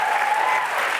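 A studio audience claps in a dense, steady burst of applause that fills the whole short moment at moderate volume.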